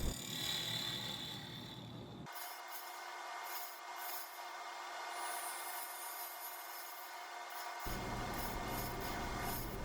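A wooden bowl being hollowed on a lathe gives a faint, continuous scraping hiss of the tool on spinning wood over a low motor hum, steady and close, with the low rumble dropping away for several seconds in the middle.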